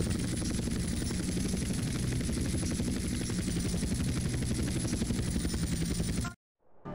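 A helicopter flying in the video game GTA San Andreas, its rotor beating in a steady loud chop close up, with a constant high engine whine, cutting off abruptly just before the end.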